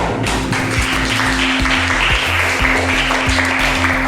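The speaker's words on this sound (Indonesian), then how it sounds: "Sekali applause untuk Laili" A classroom group gives Laili a round of applause during a lesson, loud dense clapping from many hands that fills the room continuously over a low electrical hum.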